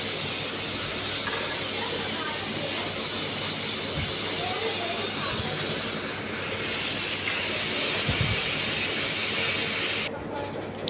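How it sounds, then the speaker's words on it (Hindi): Loud, steady hiss of pressurized steam rushing out of a pressure cooker cooking chickpeas, continuously for about ten seconds, then cutting off abruptly near the end. "फिर मैंने कुकर का प्रेशर हटा दिया"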